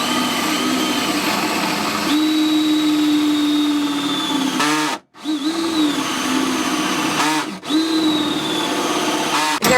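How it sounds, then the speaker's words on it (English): A power drill bores to open up a hole through a thick base aboard a sailboat, its clutch slipping. A loud, close, steady whine runs for several seconds, cuts out briefly twice, then resumes. "Let me get your drill here."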